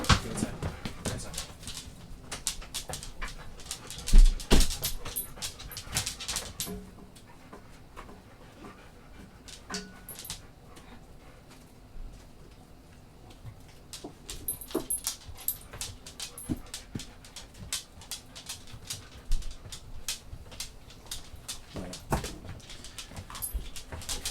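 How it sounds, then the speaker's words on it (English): Three big Labrador dogs pant and whimper close by in a room, with rapid breathy panting, soft whines and scattered clicks and knocks over a long stretch, and no one speaking. "I've got 3 dogs. They're big 3 Labradors"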